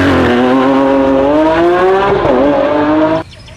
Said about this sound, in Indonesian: Mobil balap ya.